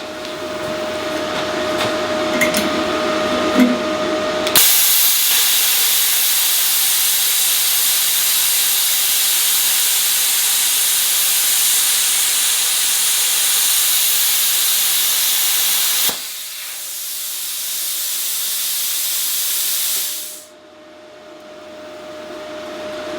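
Yeswelder Cut-55DS plasma cutter set to 45 amps and 55 psi of air slices through 1/8-inch metal. A loud, harsh, steady hiss runs for about sixteen seconds, then the tone changes, and it stops with the air trailing off.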